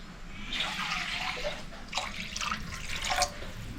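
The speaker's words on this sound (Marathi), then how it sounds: "3 वाट्या पाणी घेते" Water is poured into a cooking pot in a few short, faint pouring and splashing bursts with small drips between them.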